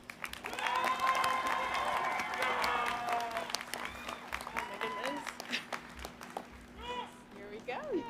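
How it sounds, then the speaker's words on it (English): Audience applause at a Wilkinson College degree ceremony as a speaker is welcomed to the podium. Moderate clapping spreads through the hall, with cheering and voices talking over it. "Please join me in a round of applause as we welcome McKenna to the podium."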